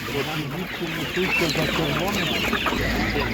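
Several purebred hens at an animal market cluck steadily nearby, their short clucks overlapping, while a person talks at the same time.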